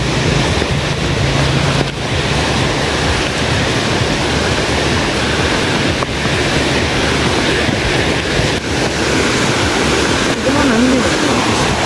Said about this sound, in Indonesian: Ini salah satu sungai, aliran sungai yang ada di Bukit Cendono